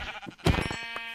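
Sheep bleating in Minecraft, one wavering bleat that starts abruptly and carries on close and clear, with no talk over it.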